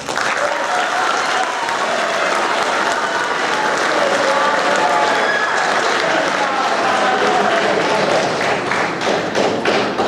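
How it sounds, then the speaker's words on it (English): Sustained, dense applause from a school audience at an eighth grade awards ceremony fills the whole stretch at steady loudness, with scattered thumps and taps mixed into the clapping crowd. "one more round of applause"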